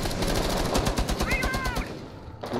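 Automatic gunfire in Rainbow Six Siege, a rapid steady burst of shots running through most of the clip before cutting off, with a brief tonal in-game cue partway through and some voices underneath.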